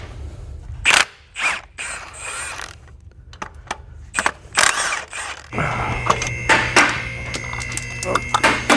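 Clicking ratchet turns and metallic creaks as flywheel bolts are loosened on a BMW F10 M5 in a garage, close and sharp, in bursts separated by pauses, followed by a steadier whirring mechanical drone.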